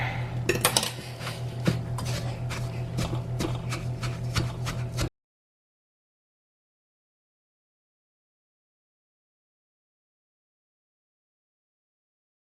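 A metal pastry cutter scrapes and clanks against a bowl while working a crust mixture, making a run of quick, close scraping and tapping strokes for about five seconds before everything goes silent.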